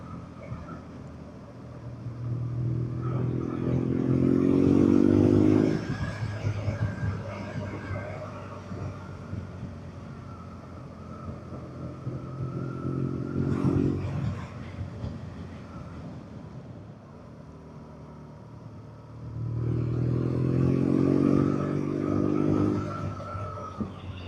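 A BMW R nineT Urban G/S motorcycle ridden through the Forest of Bowland, its engine droning steadily under wind noise with three rising surges of acceleration, and a rider talking over it.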